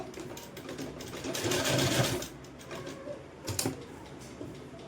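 A sewing machine runs close by, sewing topstitching along a long kurti, with a continuous mechanical whirring and rattling that swells in the middle and then eases to a steadier hum.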